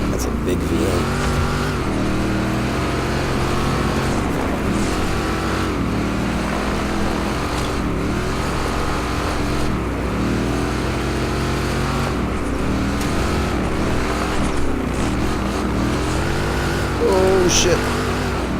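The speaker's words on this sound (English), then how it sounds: "Listen to that engine. That's a big V8." A big V8 engine roars in a racing video game, with continuous engine drone and repeated rising and falling revs over nearly twenty seconds, while a person talks over it.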